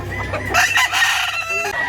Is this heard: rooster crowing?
yes